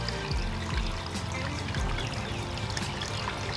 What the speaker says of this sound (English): I'm gonna pour some directly into the filter